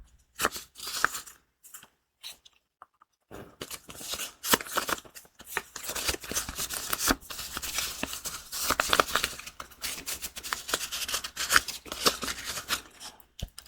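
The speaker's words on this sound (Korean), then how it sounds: "마지막으로 조언 카드를 한 장 뽑아보도록 하겠습니다." Tarot cards being shuffled and a single card drawn in a quiet whispered reading, heard as soft crisp riffling and flicking bursts after a near-silent start, with no voice over them.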